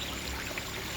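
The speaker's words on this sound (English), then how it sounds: "It's an L-shaped tube and flows out into this tank into the center" Water pours steadily out of an L-shaped tube into the centre of a tilapia aquaponic fish tank, a constant, close splashing rush that fills the whole moment without pause or voices.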